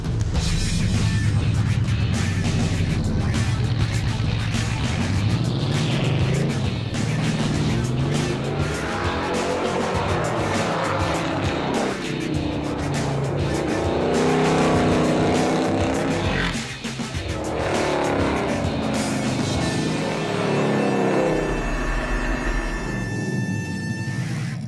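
NASCAR truck driving laps on a race track, with a steady loud engine roar throughout, occasional tire squeal, and people talking over the noise.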